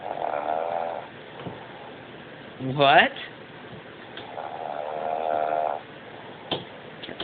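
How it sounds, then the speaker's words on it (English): A sleeping cat snores in two long, droning breaths, fairly close and moderately loud, with a short spoken word between them and a few faint background noises. "Cat snores."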